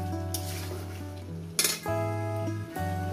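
A spatula stirs and scrapes spice masala in a hot pan for a thin katla fish curry with elephant foot yam, giving clinks and metallic scrapes over a steady tonal background, with one louder clatter midway.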